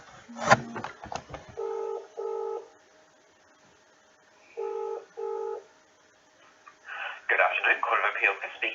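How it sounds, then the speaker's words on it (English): A telephone ringback tone sounds in two pairs of short buzzing bursts with pauses between, after some clicks, followed by a voice answering. "So I'm just ringing Court of Appeal and asking for Chris Abraham"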